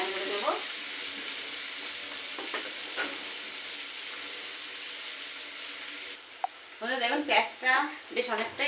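Onions fry in oil in a pan for chowmein, making a soft, even hiss with occasional stirring taps. Toward the end a voice speaks over the sizzle.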